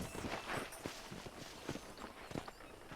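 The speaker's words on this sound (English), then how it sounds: "let's see if you can still ride a horse" Horse hooves clop at a steady trotting rhythm while riding in the video game Red Dead Redemption, fairly quiet and close, with soft background ambience between the beats.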